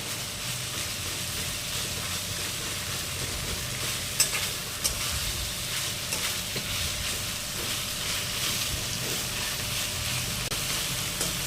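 A spatula stirs spices into a fish head sizzling in a pan, a steady, close frying hiss with soft scraping that runs throughout, without talk.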